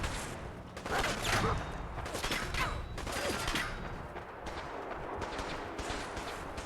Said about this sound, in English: I don't even know who's shooting me.